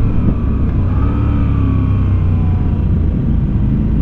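A Moto Guzzi V7 850 Centenario motorcycle engine rumbles loudly and steadily close by, a deep continuous drone with a gentle rise in revs partway through, no voices.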